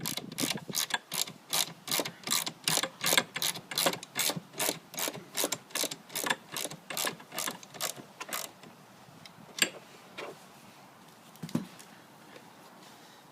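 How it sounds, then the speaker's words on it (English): An Allen wrench tightens the bolts of a ceiling TV mount in a fast run of sharp, close ratcheting clicks. The clicks slow and become sparser toward the end, with nobody talking. "you're going to grab your Allen wrench again. Make sure you give a nice final touch"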